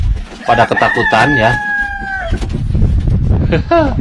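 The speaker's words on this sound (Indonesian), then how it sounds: "ini ternak ayam guys" Chickens on a poultry farm cluck and crow loudly and close by, with a rooster call ringing out, while a person speaks briefly over the birds.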